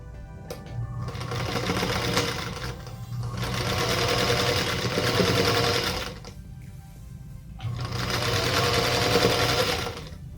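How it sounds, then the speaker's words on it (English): A sewing machine stitches strips onto the remaining sides of a combination star quilt block, running loud and close in three sustained bursts separated by short pauses, with a steady mechanical whir throughout each run. "let's again repeat that process and sew to the remaining 3 sides."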